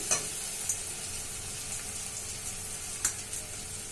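Onion and tomato fry in a pan as spices go in for a Marathi padwal (snake gourd) bhaji, giving a steady soft sizzle with a few sharp crackles and stirring clicks and no voices.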